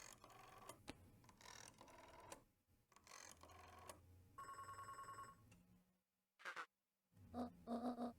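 Phone ringing in the video game Beacon Pines, a series of bright trilling rings in short repeated bursts, with tonal game chimes and beeps between them and no talk.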